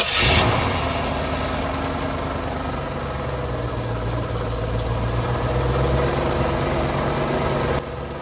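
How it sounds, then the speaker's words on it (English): A car engine idles steadily just after a fresh start, its failing smog pump with worn bearings adding a constant droning whine and rumble that runs unbroken for several seconds before dropping slightly near the end. "The weird sound you're hearing is the smog pump."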